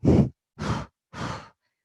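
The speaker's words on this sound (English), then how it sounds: "When you exhale, you can exhale through your mouth or through your nose" Three slow, audible exhales during a yoga breathing exercise, each breath close and clear, evenly spaced with short silent pauses between them.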